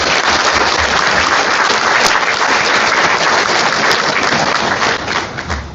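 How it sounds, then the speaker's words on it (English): Steady applause from a luncheon audience at a joint chamber of commerce event fills the room loudly and continuously, dense clapping holding level before easing slightly at the end. "Let's give them a warm round of applause."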